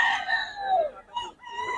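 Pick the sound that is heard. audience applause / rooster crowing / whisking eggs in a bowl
rooster crowing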